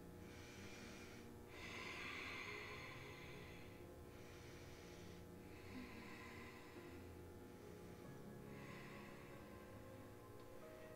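Slow, deep breaths during a yoga flow, each long airy inhale or exhale rising and fading in a steady cycle over constant low background noise, close to the microphone.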